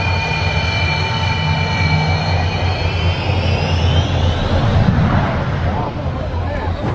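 A jet aircraft engine running loud and close beside runway workers, a steady roaring whine with a sustained high tone drifting across it; voices are faintly mixed in under the engine noise.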